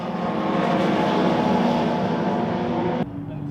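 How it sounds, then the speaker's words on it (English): TVR racing cars with V8 engines roar out of a chicane at Donington Park, following one another nose to tail; the loud, dense engine noise holds steady, then drops off abruptly near the end. "it's hard down on the power, and those TVRs following line astern, and the V8s making a glorious cacophony of sound"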